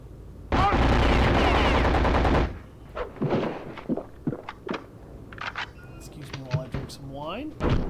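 Submachine gun fire in Return to Castle Wolfenstein, a loud sustained burst of rapid automatic shots lasting about two seconds, followed by scattered thuds, clanks, footsteps and game voices.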